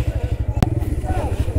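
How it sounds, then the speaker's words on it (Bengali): A motorcycle engine runs with a steady, rapid low thumping pulse, close and continuous, while someone talks over it and one sharp click cuts through midway. "বাইকটা এখানে সাইড করে রাখি দিই"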